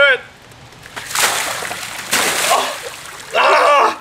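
Ice water from a bucket splashes and sloshes down over a person in two loud pours for an ALS Ice Bucket Challenge, with a brief voice at the start and a yelp at the end.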